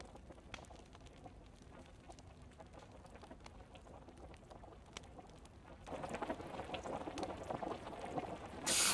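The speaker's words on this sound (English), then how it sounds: "It's a nice touch they added, the boiling sound effect." Boiling water in the DayZ video game, a soft continuous bubbling and simmering that grows denser and louder partway through.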